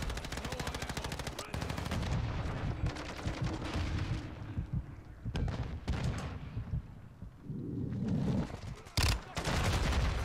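Call of Duty: Modern Warfare II gameplay is filled with rapid, sustained turret and automatic gunfire, dense and loud, with faint background game sounds mixed in and a brief gap in the firing near the end.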